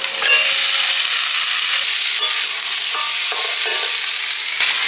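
A fish head and green chili go into a frying spice masala for a Bengali pui shak dish. The result is a loud, dense, continuous sizzle close up, with no voices.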